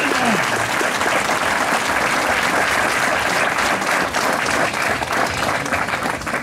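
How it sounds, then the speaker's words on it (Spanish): Audience applause fills the whole stretch, a dense, steady wash of clapping from a gathered crowd that stays loud and even throughout. "vale la pena de darle un aplauso"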